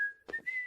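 A man whistling a merry tune as he prances away, a short, clear, steady high whistle heard alone and up close, with a brief breathy flutter in the middle.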